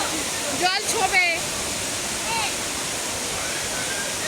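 A waterfall in the Ayodhya hills of Purulia roars as a steady broadband rush, while people shout and call out briefly over it near the start and middle.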